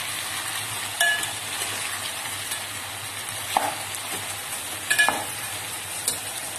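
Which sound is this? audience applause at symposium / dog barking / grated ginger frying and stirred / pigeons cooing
grated ginger frying and stirred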